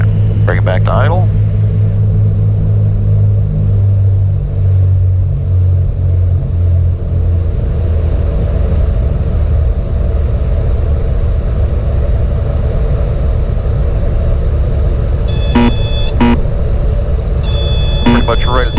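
Cessna 310 twin piston engines in flight, a loud steady droning rumble that swells as the props go full forward and then settles back toward idle, with brief tonal beeps near the end.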